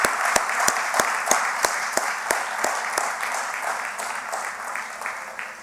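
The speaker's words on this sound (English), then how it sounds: "Let's give a round of applause for that." A hall audience claps at a legal conference closing ceremony, many hands giving steady even applause that holds for several seconds and then slowly thins.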